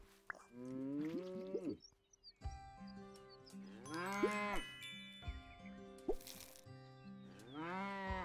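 Cartoonish cows in the farming video game Big Farm Story moo in several drawn-out, rising calls, separated by short pauses, clear and close with no talking.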